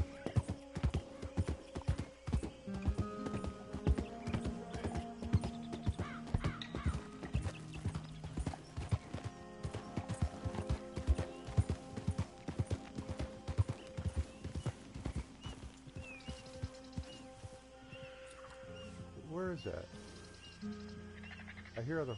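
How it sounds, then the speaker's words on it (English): Horses in a swamp in Red Dead Redemption 2, hooves clip-clopping steadily and close for most of the stretch, with a whinny near the end and a voice talking over them. "The horses."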